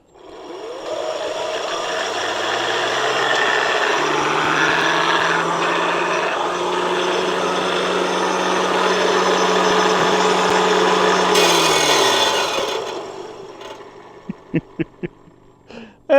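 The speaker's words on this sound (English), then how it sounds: "got that little bit of chain rub, but at least it spins good" A combat robot's spinning weapon runs up with a loud steady mechanical whir and rubbing chain drive, holding for about ten seconds before spinning down, followed by a few sharp clicks.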